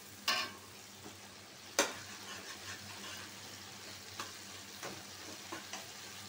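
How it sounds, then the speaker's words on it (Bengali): Taro frying in a pan with prawns, a quiet background sizzle broken by a few sharp scraping stirs and clatters near the start and toward the end. "পাঁচ মিনিট কষানো হয়ে গেছে, এখন আমি কচুটা দিয়ে দিব।"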